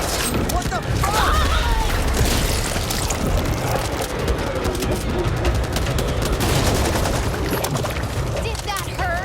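An RPK light machine gun fires in sustained bursts in Back 4 Blood, with dense, loud rattling gunfire and booms under occasional voices.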